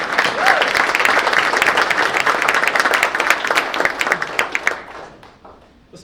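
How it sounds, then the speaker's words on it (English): Audience applause for first responders at a mayor's state of the city address, sustained dense clapping from a large crowd that fades out over the last second or so. "Let's give those first responders a round of applause."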